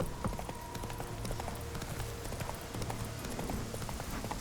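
The horse Roach gallops in The Witcher 3: Wild Hunt, a rhythmic, steady run of clip-clopping hoofbeats at close range over a low game-audio bed.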